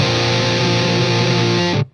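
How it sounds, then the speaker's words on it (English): An electric guitar chord played through an Everybody Hertz Ghozer fuzz pedal rings out thick, saturated and loud for about two seconds before cutting off abruptly. "Who needed that much distortion in the 70s?"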